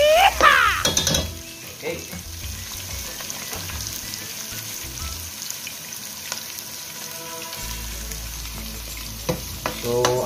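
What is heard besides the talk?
garlic and onion frying in hot oil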